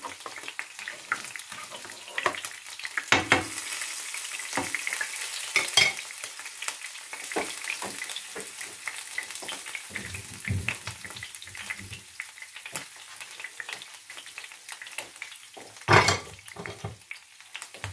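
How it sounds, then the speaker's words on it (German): Potatoes sizzle in hot oil in a pan for a chicken, cauliflower and potato bake, a steady frying hiss broken by a few louder crackles and spatters, close and without talk. "Und diese Öl kann sie jetzt in die Kartoffel weiter anbraten."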